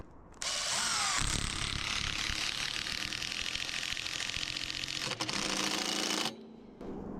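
A power drill runs almost continuously for about six seconds, driving outdoor-rated screws through metal into wood on a pole shop roof build, with a loud steady whine that starts and stops abruptly.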